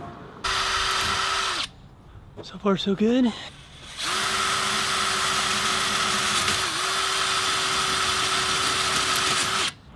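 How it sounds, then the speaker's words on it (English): A power drill boring a small hole while a bracket is mounted for a trailer light, with steady whining bursts of drilling broken by a short pause and a brief spoken remark between them. "Drill a little hole."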